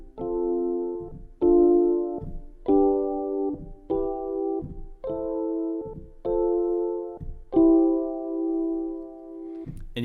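A short sequence of seven sustained chords played one after another at a steady pace, each ringing clearly with brief gaps between, no voices.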